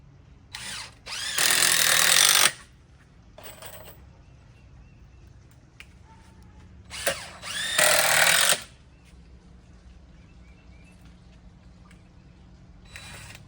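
A power drill bores into the legs of a bucket planter stand in two loud whirring bursts of about two seconds each, separated by quiet handling noises and short clicks.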